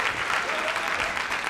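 Audience applause at a 1978 stand-up comedy show, a steady wash of many hands clapping at moderate level for the whole stretch, with no distinct voices standing out.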